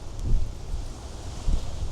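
Wind gusts buffet the microphone outdoors in a secluded backyard, low rumbling swells rising twice amid faint rustling.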